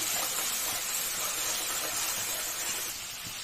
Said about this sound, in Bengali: এবার তেলের মধ্যে সর্ষের পেস্টটা দিয়ে দেব।